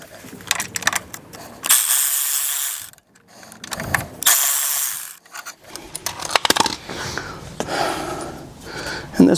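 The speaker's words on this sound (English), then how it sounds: "I'm gonna use a ratchet on the bottom one, ratchet and socket." A hand ratchet and socket clicks as it loosens a lower bolt on a Honda Trail 125 motorcycle during an exhaust guard install, with close, crisp pawl bursts separated by pauses and light handling noises.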